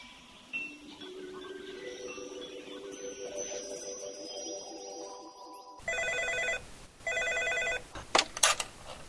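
An old-style telephone rings in short bursts of bright bell tones after a rising electronic warble, repeating twice and then cut off by a clatter.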